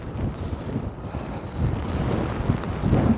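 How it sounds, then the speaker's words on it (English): Strong wind gusts roar in low and steady across the mic on a rainy downtown Toronto street, a continuous rumble that swells now and then with no talk over it. "a really strong wind right now."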